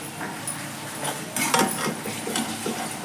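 Spoon stirring garlic and coriander paste into softened tomato masala in a pan for Rajasthani dal baati, giving close scraping and light metal clinks on the pan over a faint background hiss.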